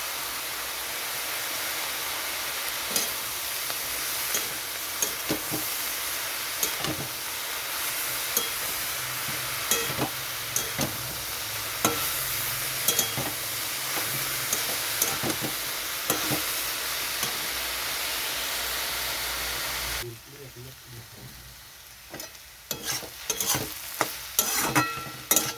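Bathua greens fry in a pan with salt and turmeric, a continuous close sizzle broken by scraping stirs, then the hiss drops away and scattered clinks and stirring follow.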